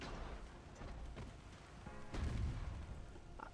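Naval guns fire and shells strike ships in the game Ultimate Admiral: Dreadnoughts. A rumbling, rain-like wash of distant gunfire swells into one heavier booming blast midway, then rolls on.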